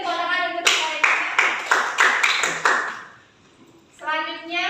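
Classroom applause for students, a burst of clapping hands that fades, with voices heard before and after it.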